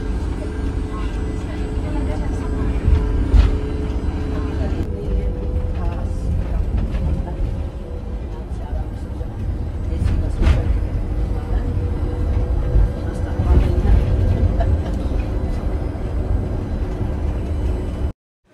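Electric bus setting off from Tirumala down the ghat road toward Tirupati, heard from inside the cabin: a continuous low rumble and road noise with faint whining tones and occasional rattles, steady throughout.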